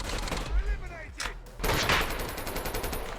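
Gunfire in the mobile shooter Call of Duty Mobile, with a burst of loud shots from an assault rifle, a short pause, then a dense stretch of rapid firing alongside game effects.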